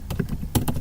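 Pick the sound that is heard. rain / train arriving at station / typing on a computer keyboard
typing on a computer keyboard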